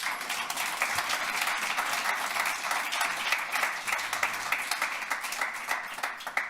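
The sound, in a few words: audience applause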